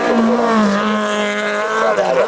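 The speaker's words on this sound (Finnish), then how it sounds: "Matti Heiskanen keskipäivän urheiluautoilla tulee sieltä tuonne lähtöpaikalle." A rally sprint car at Kiteen Rallisprint 2016 approaches the start line, its engine droning loud and close with a steady rising harmonic whine throughout, an announcer's voice audible over it.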